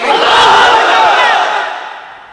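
A large crowd of married men roars a loud, sustained takbir chant in unison at a religious gathering, the massed voices swelling together and then slowly fading over a couple of seconds.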